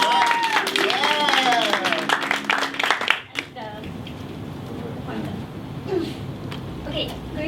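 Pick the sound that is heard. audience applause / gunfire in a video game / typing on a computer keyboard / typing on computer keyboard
audience applause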